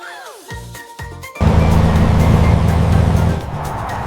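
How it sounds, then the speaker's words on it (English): A truck pulls away, a short horn-like tone and two quick thumps giving way to a loud, close engine roar that holds steady and then eases, with no voices. "This is a truck."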